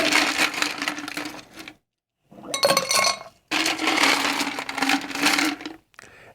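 Ice rattles and clinks into a tall cocktail glass in three loud close bursts of clattering cubes, separated by short silences, with a brief final clink at the end.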